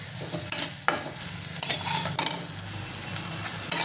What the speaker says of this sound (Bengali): এটা একটু ভাজা ভাজা করে নেবো, হালকা ভাজা ভাজা করে নেবো।